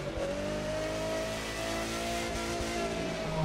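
A hypercar engine revs hard in the racing game The Crew 2, giving a continuous rising and falling mechanical whine. The sound is sustained and fairly close, with no talking.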